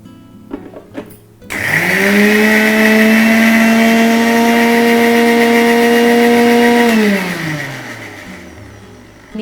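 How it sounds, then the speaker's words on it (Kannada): A kitchen mixer grinder whirs up loud and steady for about five seconds while grinding grated coconut with salt, then winds down, with a few clicks just before it starts. "ಬರೀ ತೆಂಗಿನಕಾಯಿ ಉಪ್ಪು ಹಾಕೊಂಡು ಮಿಕ್ಸಿ ಮಾಡ್ಕೊಳ್ಳುವಂಥದ್ದು"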